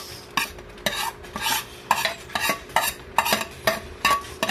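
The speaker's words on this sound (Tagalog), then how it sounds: "Ayan guys, lagay na natin yung mais." Corn being stirred into glutinous rice cooking in coconut milk in a pot, rhythmic scraping and wet stirring strokes repeating about twice a second, close and clear with no talking.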